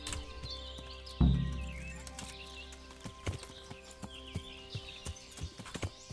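Horse hooves clip-clop in Kingdom Come: Deliverance, opening with a heavy low thump, then a steady run of clear, close hoofbeats over outdoor ambience with faint birdsong.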